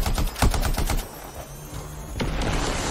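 Rapid bursts of gunfire in the video game Anthem rattle loudly in quick succession, then pause briefly before another shot and continued firing at a distance.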